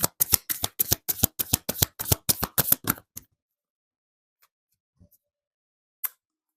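Tarot cards are riffled in a quick run of about a dozen crisp snaps over three seconds, then stop, leaving near silence with a few faint taps and one last card flick.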